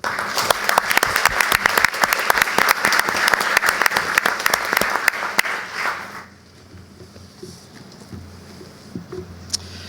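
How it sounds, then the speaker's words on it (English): An audience at a school board meeting applauds with dense, steady clapping for about six seconds, then it stops abruptly, leaving a quiet room with a few faint stray sounds. "a round of applause for everybody"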